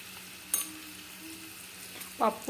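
Ghee sizzling in hot oil for a tempering for tomato lemon dal, a quiet steady hiss broken by a sharp crackle early on and a couple of louder spattering bursts near the end.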